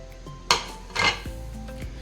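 Ground spices for a homemade chicken dum biryani are tipped into a bowl, with two distinct spoon clinks against the dish and a few faint knocks, close and quiet, no talking.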